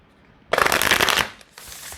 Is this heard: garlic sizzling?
no